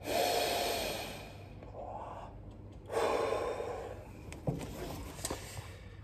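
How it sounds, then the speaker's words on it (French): Slow, deep breaths during a breathing and stretching exercise session, two long airy inhales close to the microphone separated by a quieter pause, followed by softer breathy sounds. "et j'inspire"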